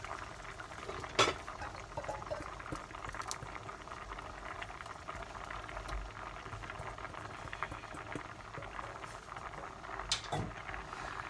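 Beans and sausages with tomato purée simmer and bubble steadily in a pot on the stove, a continuous close boiling sound with a few light clinks of utensils and a stir or two.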